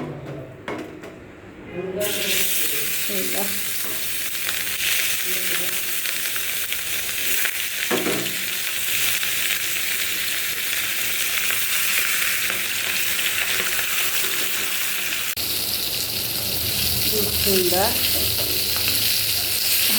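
Fish frying in hot oil, a dense, loud, close sizzle that runs almost without a break, with occasional scraping and clatter from stirring and a faint voice now and then.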